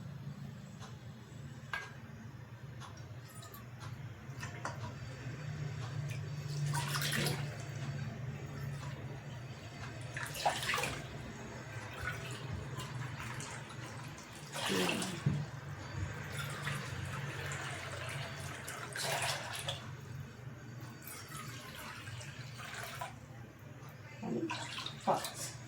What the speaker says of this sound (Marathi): तर आपण 5 वाट्या पाणी घेतलेलं आहे